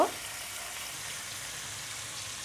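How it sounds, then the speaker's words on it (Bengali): Coral fish pieces fry in oil in a pan over medium heat, producing a quiet, even sizzle that holds steady from start to finish. "চুলার আঁচটা মাঝারিতে রেখে আমি মাছগুলো ভেজে নিব"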